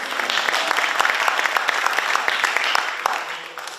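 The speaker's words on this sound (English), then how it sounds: "Why is the crowd hollering tonight" An outdoor crowd at a variety show on a green claps steadily with scattered whoops and hollers, a dense, sustained applause at moderate distance.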